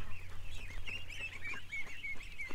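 Ducks calling in a backyard, a dense run of nasal honks and quacks repeating steadily throughout, fairly close, over a low steady hum.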